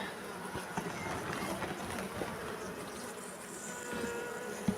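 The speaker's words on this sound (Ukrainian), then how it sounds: "О, рій нормальний. Восьмирамкова пастка і бджіл вистачає." A swarm of bees inside an eight-frame trap drones in a dense, continuous buzz, steady and close throughout.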